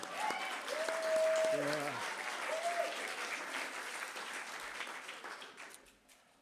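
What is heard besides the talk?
audience applause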